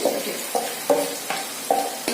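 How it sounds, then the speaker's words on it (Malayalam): Sliced onions hiss and sizzle in hot oil while a utensil stirs them in several evenly spaced scraping strokes, close and clear with no talking. "ഓയിൽ ചൂടായിട്ടുണ്ട്. നമുക്ക് ഈ ഉള്ളി ഒന്ന് വറുത്തെടുക്കാം."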